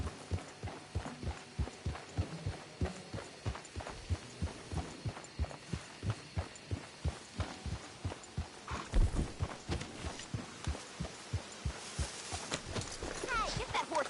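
Horse hooves clip-clop steadily in Red Dead Redemption 2, an even, continuous trotting rhythm of dull thuds throughout, with voices speaking over parts of it and other game sounds in the background.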